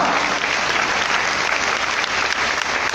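A kirtan audience claps together in a loud, sustained burst of applause that fills the whole stretch without letting up.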